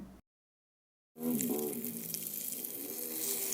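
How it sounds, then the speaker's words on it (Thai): Egg-battered eggplant strips frying in hot oil, the slices sprinkled with white and black sesame; after a brief silence a loud, steady crackling sizzle fills the rest of the clip close up, with no talking. "ทอดผ่านมาประมาณ 3-4 นาที หรือว่าแป้งกรอบก็มาพลิกกลับด้าน"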